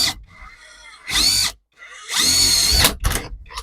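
A Grosser GID 230N cordless impact driver whirs and hammers in two loud bursts while drilling a hole, separated by a short pause, close by, with brief clattering as it stops.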